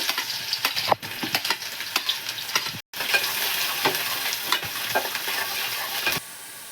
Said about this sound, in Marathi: आधी आपण कांदा पूर्ण तळून घेऊ